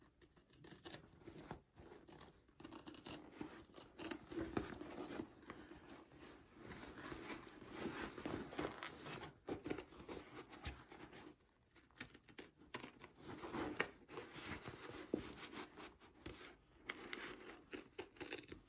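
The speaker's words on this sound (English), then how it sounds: "let me get my pinking shears here" Pinking shears snip through handbag fabric in a steady run of close, crisp cuts, with paper-like rustling and scraping as the material shifts, continuing for the whole stretch without talk.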